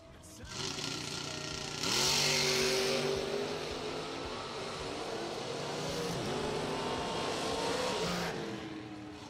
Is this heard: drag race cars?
yes